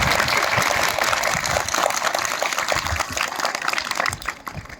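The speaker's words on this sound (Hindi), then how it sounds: "एक बार जोरदार तालियां डिफेंस स्टेट के लिए।" Audience clapping at a Defence Estates Day celebration in Jutogh Cantonment, a loud, busy burst of applause with distinct individual claps, fairly close, tapering off at the end.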